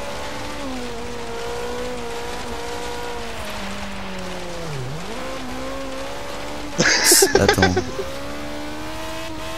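A Renault 5 Turbo in Forza Horizon 3 drones steadily with a rising and falling engine pitch, then a short loud burst of crashing or skidding noise near the end, with a voice speaking briefly.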